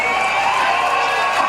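A rally crowd cheers, a dense, loud, sustained roar of many voices filling the whole short stretch.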